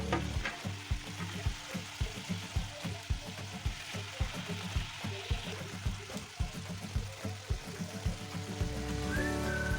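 Ingredients for a pabda fish curry frying in oil, a quiet steady sizzle overlaid with regular rhythmic stirring taps against the pan, close and faint, ending with a brief higher tone.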